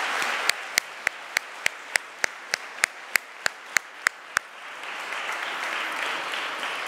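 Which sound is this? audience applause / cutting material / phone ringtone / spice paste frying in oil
audience applause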